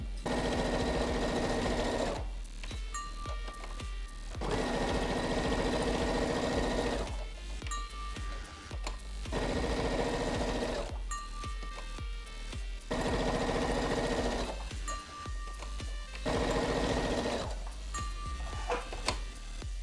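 Brother Strong & Tough ST150HDH heavy-duty sewing machine stitching through six layers of fabric, running in several steady bursts of a few seconds each with short pauses between them.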